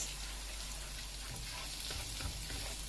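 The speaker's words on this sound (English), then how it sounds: "Basically, I just want to start kind of cooking this rice just a little bit." Rice frying in a pan as the first step for stuffed peppers, a steady, bright sizzle running throughout with a few soft stirring scrapes, close and without speech.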